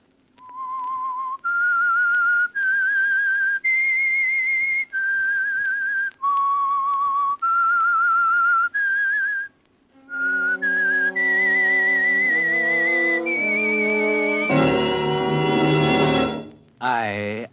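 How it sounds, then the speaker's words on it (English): A sustained whistled melody of long held notes, followed by orchestral music swelling in with rich brass-like chords. "That whistle is your signal for the Signal Oil Program"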